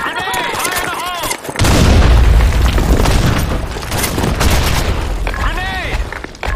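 A grenade detonates in a Sand Storm II video game match as a loud, close boom with a long rumbling tail, surrounded by dense gunfire and battle noise, while voice callouts sound before and after.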